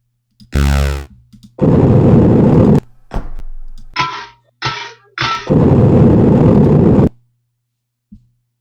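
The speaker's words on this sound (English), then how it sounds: "Dull explosion." Several muffled, dull retro video game explosion bursts in a row, some short and some drawn out, each ending abruptly with silence between them.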